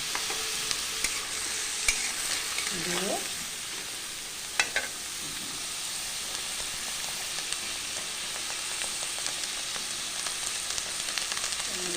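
Chopped green chillies sizzle in a pan as they are stirred, a steady hissing fry with occasional scraping strokes of the spoon and small crackles throughout, no talk.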